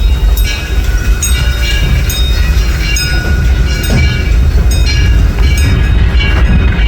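A steam train on the Disneyland Railroad, pulled by the locomotive Ernest S. Marsh, rolling steadily along the rails, loud and close, with a continuous rumble, rhythmic clacking and occasional metallic squeals.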